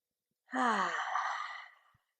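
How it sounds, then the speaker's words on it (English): During a core-strengthening yoga pose, one long, clear exhalation lasts about a second and a half, close to the microphone, then fades out with near silence before and after. "Breathing."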